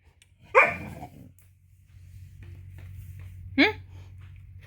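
Dog barking indoors, two loud close barks about three seconds apart, with a quieter low background hum and faint murmuring between them.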